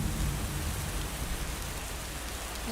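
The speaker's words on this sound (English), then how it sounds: "Ooh, rain!" Steady, dense rain in the video game The Stanley Parable: Ultra Deluxe hisses evenly throughout, a constant wash of falling drops with a low rumble underneath and no voices.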